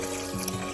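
Water pours from a tap into a small pot for chicken ginger soup, a steady close splash lasting under a second with no talking.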